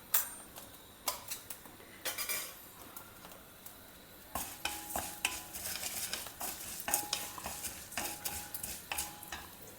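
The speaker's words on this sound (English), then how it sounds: "just lightly fry it till the dals are browned" Coriander seeds, chana dal and urad dal fry lightly in oil in a pan, with a soft steady sizzle punctuated by repeated sharp clinks and scrapes of a spoon stirring against the metal, close and with no talking.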